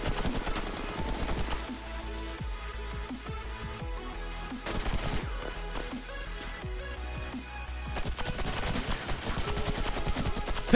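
Rapid auto pistol gunfire in the video game H-Hour, dense repeated sharp shots crackling across a busy mix of other gunfire and game sounds throughout.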